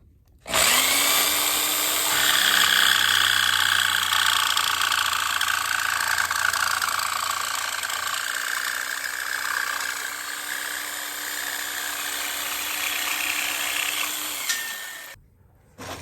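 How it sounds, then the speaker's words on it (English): A jigsaw cutting wood whines continuously at high speed for most of the stretch, a steady buzzing drone that cuts off abruptly near the end. "So that's the jigsaw."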